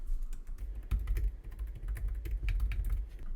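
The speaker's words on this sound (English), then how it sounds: "I'm just going to type in Sweet Banana Pepper." Fingers typing text on a computer keyboard while designing a craft, a quick uneven run of close, soft key clicks with no voices.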